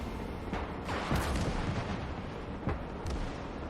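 Tank main gun and coaxial machine gun firing in the Call to Arms: Gates of Hell Ostfront campaign, with dense, steady battle noise and several sharp bursts and booms rising above it.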